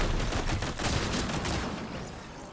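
A turret fires in the video game Fortnite, a dense burst of rapid automatic shots rattling continuously at close range before tapering slightly.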